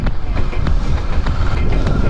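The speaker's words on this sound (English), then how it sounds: "The exhaust sound is very good. It's very bassy." Royal Enfield Meteor 350 motorcycle exhaust heard close while riding, a deep, bass-heavy rumble with quick regular thumping pulses and some wind buffeting.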